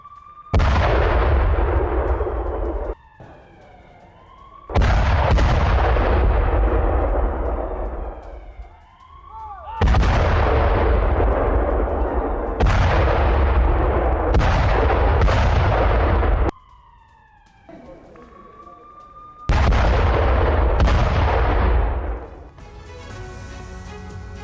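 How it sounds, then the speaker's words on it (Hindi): Heavy artillery fire on the Avdiivka front, with loud booming blasts and long rumbling roars that repeat at uneven intervals over about 24 seconds, alternating with quieter gaps. "यूक्रेनी सैनिकों पर आर्टिलरी से प्रहार किया गया।"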